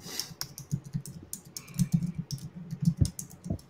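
Fast, furious typing on a computer keyboard: dense, irregular clatter of key presses close to the microphone, running continuously with no voices over it.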